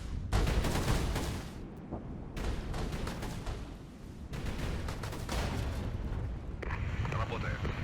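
Rapid volleys of rocket and artillery fire from a Regiments battle, dense overlapping booms and bursts rolling continuously at close range, with brief gaps and a voice talking over part of the barrage.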